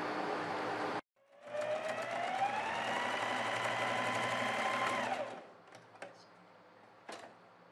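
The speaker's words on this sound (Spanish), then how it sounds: "Realizamos costura con overlock también en este otro lateral." An overlock sewing machine stitches the side seam of a women's garment, a steady whirring hum running about four seconds after a brief pause, then stopping with a few faint clicks.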